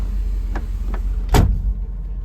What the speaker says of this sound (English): come on inside and close this door